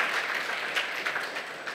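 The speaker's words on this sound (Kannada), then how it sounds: "ಒಬ್ಬರೇ ಕೈ ಚಪ್ಪಾಳೆ ತಟ್ಟೋದು" A church congregation clapping hands, a short burst of dense, steady applause at moderate distance with no voices.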